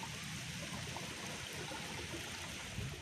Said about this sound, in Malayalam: നിങ്ങൾക്ക് വെള്ളത്തിൻ്റെ കളകള സൗണ്ട് കേൾക്കാനുണ്ടോ?